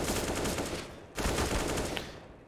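Gunshots in the shooter Counter-Strike on the map Mirage during a competitive match, a rapid burst of fire near the B bomb site, followed by a louder crack and a dense, noisy spray that fades out.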